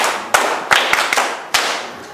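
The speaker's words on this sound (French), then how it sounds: "Applaudissez pour vous-même." A class of schoolchildren at a school-supplies handover ceremony claps for themselves in unison, a handful of sharp group claps spaced unevenly with a loud, close wash of hands between them.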